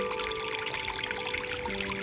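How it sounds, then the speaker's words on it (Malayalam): Cooking oil streams from a container into a pan for making neyyappam, a soft steady pouring trickle heard close and fairly quiet for about two seconds. "ഞാൻ ഓയിൽ ഒഴിക്കാണ്"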